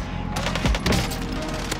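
Rapid bursts of video game gunfire from an FFAR rifle crackle and thump close by, with a low boom in the middle, dense and continuous across the short stretch.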